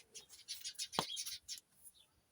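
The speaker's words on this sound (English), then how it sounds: "Oh, a little bit of bird argy-bargy going on there." Small birds chirp and squabble in a quick, busy burst, with one sharp call standing out before the chatter thins to a faint trailing chirp; fairly quiet and heard without talk.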